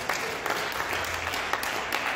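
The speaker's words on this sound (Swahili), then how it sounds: "Pigieni makofi Adamu wa kwanza." An audience claps for a man called up to stand in front of a gathering, a dense, steady patter of hands that holds evenly from start to finish with no voices on top.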